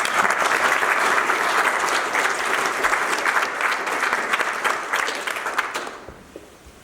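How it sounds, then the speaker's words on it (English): A crowd at a funeral service applauds steadily, loud at first and then thinning out and fading away toward the end. "How about we join them in the applause?"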